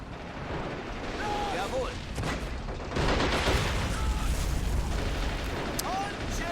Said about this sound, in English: They are firing those damn AT guns again